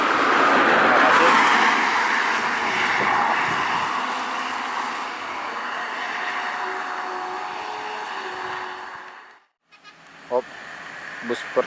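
A bus on the Padang–Bandung Transport route passes along a road, a loud broad whoosh of engine and tyre noise swelling and fading over about nine seconds, followed by a brief drop to near quiet and a few faint clicks.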